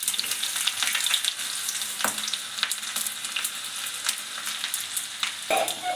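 Mustard seeds, chopped shallots and a dried red chilli fry in hot oil in a pan, a continuous sizzle with crackling pops and the occasional scrape of stirring, close and clear without talk.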